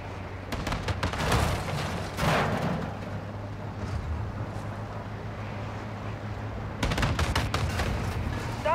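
An APC's gunfire in Call of Duty Modern Warfare 2 crackles in loud rapid bursts, first in a cluster early on, then a quieter rumbling stretch, then another hard burst near the end.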